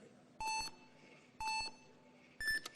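Start buzzer at a speed climbing qualification: three electronic tones about a second apart, two matching beeps and then a higher final one, clear over quiet background murmur.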